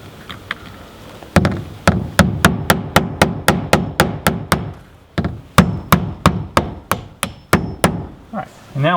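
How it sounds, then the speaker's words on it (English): Nails hammered into a wall to locate a stud: a fast run of sharp, evenly spaced hammer strikes, a short pause, then a second steady burst of blows, close and loud, with no talk. "So we put in a couple of nails here to find the stud."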